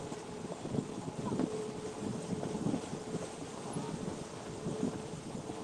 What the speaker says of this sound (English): Getting breezy again.